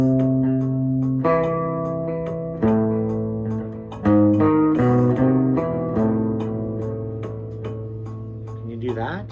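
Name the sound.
passing tones played together leading into a chord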